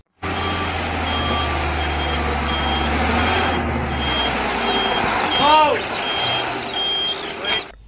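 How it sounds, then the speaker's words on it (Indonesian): A toy cement mixer truck sounds regular reversing beeps, a repeating high electronic tone over a steady motor hum and background noise, with a couple of brief squeaky chirps near the end. "Lihat teman-teman, ini adalah truk molen."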